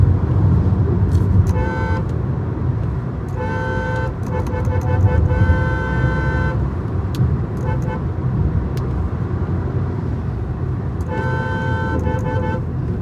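Cars drive along a busy road, with a steady rumble of engines and tyres and several bursts of horn honking, some short and some held, near and loud throughout.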